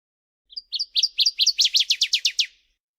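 Warbler song, a ground-nesting, brown streaky bird of Newfoundland: a series of about a dozen clear, high notes that fall in pitch and speed up, close and loud with no other sound.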